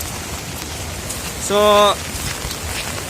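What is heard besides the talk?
rain falling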